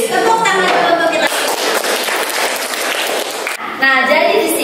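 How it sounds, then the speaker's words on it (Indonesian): A classroom audience breaks into a short burst of applause during a computer hardware lesson, with a teacher talking just before and after the clapping. "tepuk tangan dulu untuk kita"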